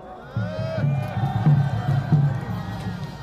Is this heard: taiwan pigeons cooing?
no